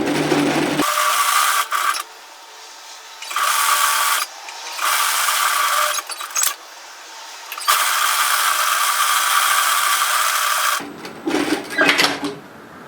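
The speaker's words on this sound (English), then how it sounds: "I'm just going to run the stitches for the hemline there." A cover stitch sewing machine runs the hemline stitches on a one-shoulder knit sweater, whirring in several steady bursts separated by short pauses, close and fairly loud with no talking.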